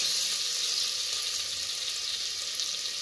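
Whole bay leaf, cinnamon, a cracked cardamom pod, cloves and black peppercorns hit hot oil in a pressure cooker for paneer butter pulao, giving a steady, close, bright sizzle that holds evenly throughout with no voices.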